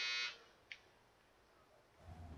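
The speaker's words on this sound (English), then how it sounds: "Shut up, buzzer." A video game buzzer alarm from Assassin's Creed III, a brief bright electronic tone that cuts off quickly, followed by a short faint blip and quiet background sound.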